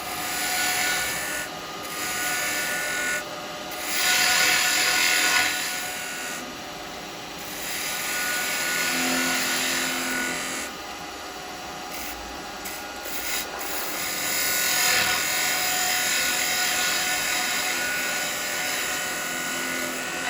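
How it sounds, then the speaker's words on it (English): Carbide detail chisel cutting a small wooden vase spinning on a lathe, giving a continuous close scraping rasp with several brief louder bursts where the tool bites harder, and no talk. "Using a detail chisel."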